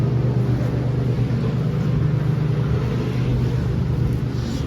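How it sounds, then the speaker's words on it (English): A riding lawnmower drives along a rural small-town street in Florida, its engine a steady low droning rumble throughout, close and continuous, with no voices. "He's riding on a lawnmower up and down the street."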